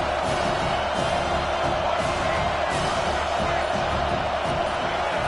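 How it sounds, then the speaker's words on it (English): A packed college football stadium crowd roars in a steady, dense wall of cheering while the home side pins its opponent deep in their own end. "this crowd trying to help keep them there"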